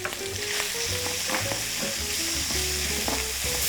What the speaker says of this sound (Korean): 다진 고기를 익혀주세요